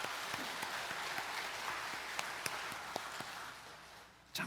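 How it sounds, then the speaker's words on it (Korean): A congregation at a Korean Sunday church service claps together in sustained, even applause that continues for several seconds before fading out. "하나님께 영광과 감사의 박수 드립니다."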